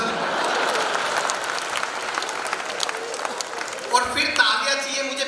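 A live audience at a Hindi comedy poetry show claps in sustained, dense applause, loud and continuous, thinning out near the end as the crowd settles.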